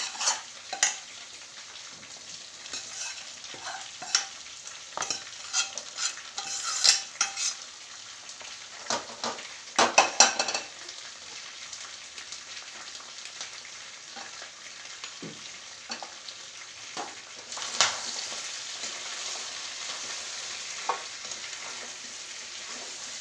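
Whole spices with a cinnamon stick fry in a pan with a soft, steady sizzle, broken by frequent scraping and clinking stirs from a utensil throughout.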